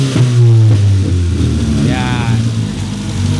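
A Honda engine with a fault causing missed firing, checked during a cold start, revs briefly and then settles into a rough idle, close and loud with speech nearby.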